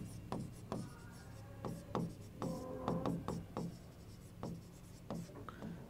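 Marker or chalk on a classroom board makes short scratchy strokes and taps in an irregular rhythm, close and fairly soft, with a few faint squeaky tones between strokes.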